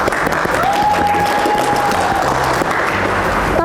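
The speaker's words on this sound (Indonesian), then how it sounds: "Yuk tepuk tangan dulu dong buat Poltekpol Surabaya." Audience applause for Poltekpol Surabaya at a casual talk show, steady and fairly loud clapping filling the whole moment, with a brief whistle-like tone rising over it early on.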